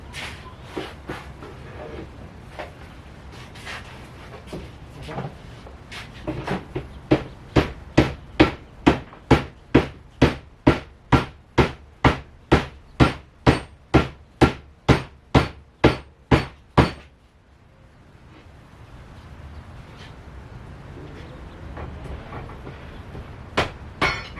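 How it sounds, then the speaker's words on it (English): A long run of sharp, evenly spaced hammer blows rings out close by, about twenty strikes in steady rhythm, followed by quieter rustling and a final knock. "And just hammer it down."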